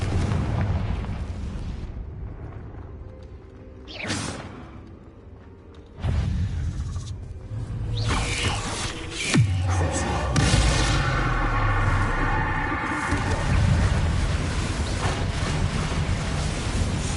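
Confringo blasting curses explode in a cave in Hogwarts Legacy, several heavy booms and bursts spread across the stretch, with rumbling tails and debris after the louder blasts.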